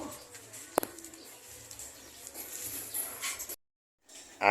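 Low, soft pigeon cooing repeats in a slow rhythm close by, with light rustling and a sharp knock partway through.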